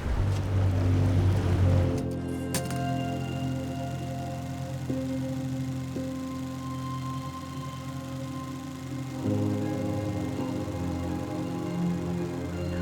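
A boat out on the open ocean with waves, its engine a steady low drone under broadband wash of water and wind, loudest at the start and easing slightly partway through, with no talking.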